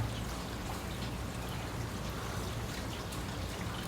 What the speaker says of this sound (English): I thought it will stop rain, but no. It's gonna be this the whole day